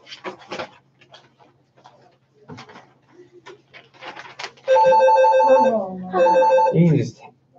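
During chemistry office hours, after scattered rustling and brief voices, a telephone rings in two loud electronic bursts, the second trailing off.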